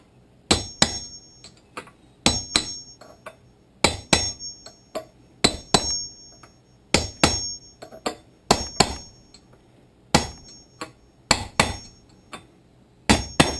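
A hammer strikes a metal punch to drive a bearing race home on a boat trailer hub: sharp, ringing metallic blows, close and loud, mostly in quick pairs and triplets with brief pauses between groups, and no talk.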